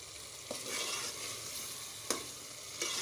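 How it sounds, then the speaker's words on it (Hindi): Masala for a tinda beef curry frying in a pan, a steady broadband sizzle with a few sharp stirring scrapes standing out, close and continuous with no voices. "अब ये मैं मसाला टिंडे गोश्त के लिए भून रही हूँ।"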